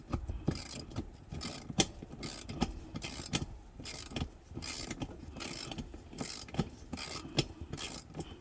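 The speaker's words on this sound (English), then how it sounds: "So I'm gonna have to ratchet it." A ratchet clicks in quick, uneven bursts while tightening a bolt on a custom suspension seat for a Cub Cadet Ultima zero-turn mower, quiet and close, with faint background mechanical noise and no talking.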